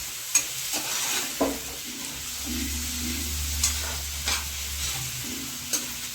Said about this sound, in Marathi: आता बटाटा टाकते सगळं एकजीव करून घ्यायचं व्यवस्थित